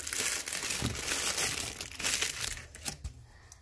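Crinkly gift wrapping paper being handled and unfolded, close, dense crackling and rustling that rises and eases in short bursts, with no voices.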